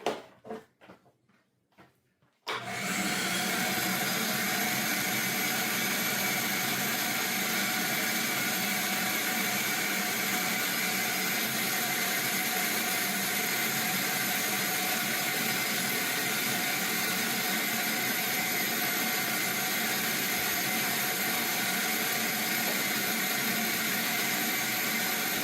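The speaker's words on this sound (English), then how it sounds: "let's get busy and get the vacuum out" After a brief moment of quiet with small handling knocks, a vacuum cleaner switches on and runs at a loud, constant whining roar with a steady drone and high tonal hum.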